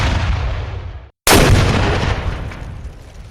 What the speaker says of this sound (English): Next day, the bombardment begins at 6 in the morning.